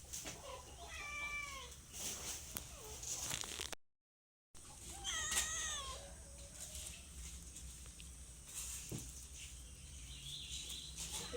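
A cat meows several times in a domestic setting: two drawn-out, wavering cries a few seconds apart over faint background noise, with a short gap of silence between them.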